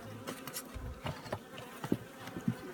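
Honeybees at a beehive in spring make a steady, close buzzing hum, with scattered individual bees passing loudly near the listener; no speech.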